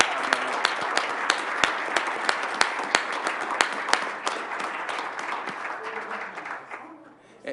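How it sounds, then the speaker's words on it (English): Audience at a business meeting gives a long round of applause for Mom, dense clapping with sharp individual claps up front, fading toward the end as a few voices murmur underneath. "Let's give Mom a bigger round of applause."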